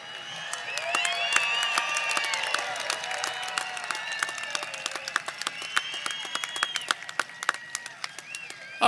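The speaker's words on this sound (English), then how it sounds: "It's okay to cheer for them." A high school graduation crowd honoring the class of 2021 claps and cheers, with scattered sharp individual claps and bright whoops over a moderate background hum of the audience.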